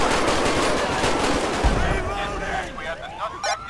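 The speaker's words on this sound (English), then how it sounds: "Dispatch, shots fired" Rapid automatic gunfire bursts loudly in GTA 5, a dense crackling barrage with a heavy boom midway, then fading into scattered shots and background commotion.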